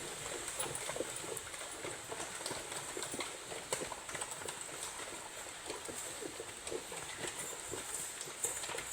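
Hooves clip-clop in an irregular rhythm at a moderate distance, several horses moving together along a river crossing over rushing water, with no talking.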